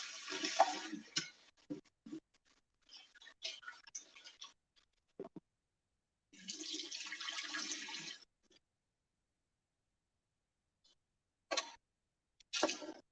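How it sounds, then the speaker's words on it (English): Running water from a kitchen tap gives a quick rinse, heard as short close splashing bursts, one steady stretch of flow, then brief spurts separated by silence, with no voices. "we'll give it a little quick rinse."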